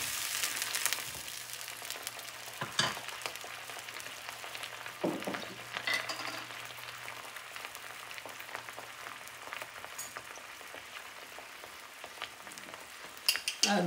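Low-sodium chicken stock hits a hot frying pan and sizzles, a strong hiss at first that settles into a steady bubbling fry, with occasional utensil clicks and scrapes nearby and no talking.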